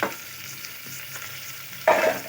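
Vegetables for a veg pulao frying and being stirred in a pan, a steady soft sizzle throughout with a louder burst of scraping and sizzling near the end.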